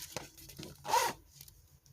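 A quick zipper pull on a small clutch purse rasps once near the middle, surrounded by soft handling and rustling of the bag.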